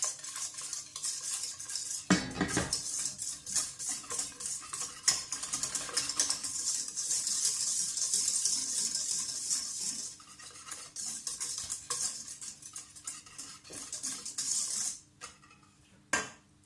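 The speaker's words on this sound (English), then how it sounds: "You can just use whisk and a stainless steel pot" A wire whisk beats rapidly against a stainless steel pot while mixing ginger cake batter, a fast continuous metallic scraping and clicking rhythm, close and steady, briefly pausing midway.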